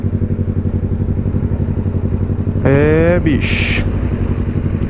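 A Yamaha MT-03 motorcycle cruising on a long trip, its engine a steady pulsing drone under wind noise, while a rider talks over it and a short tonal beep or chirp cuts in midway.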